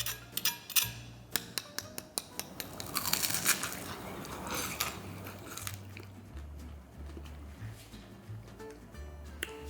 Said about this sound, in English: Sweet, crunchy, juicy because of the strawberry in the middle.